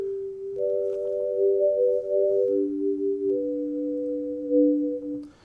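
Elixer Prepared Tape instrument playing a soloed melody of sustained, pure tape-like tones, two or three overlapping notes that shift pitch a few times, steady and clear with no voices.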